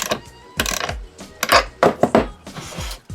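Ratchet tightening a nut on a bike part, several short bursts of metallic clicking close by, separated by brief pauses.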